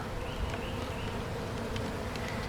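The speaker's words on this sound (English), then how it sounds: "But the bees have all swarmed to the window now." Dense, continuous droning buzz of many bees close by inside a top-bar hive, swarming at the observation window, steady throughout with no voices.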